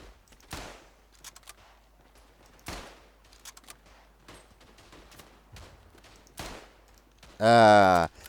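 Single rifle shots ring out in the World War I shooter Tannenberg, four or five sharp cracks spaced a second or two apart over quiet, ending with a loud brief burst that sounds like a voice.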